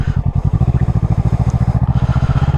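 A 650cc motorcycle engine running close by, its exhaust pulsing in a rapid, even throb at steady revs, loud and alone.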